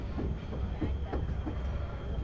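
Bengaluru-Tirupati Intercity Express train running on a single-line track, a steady low rumble with faint rhythmic clatter of wheels, heard from inside the train at moderate volume.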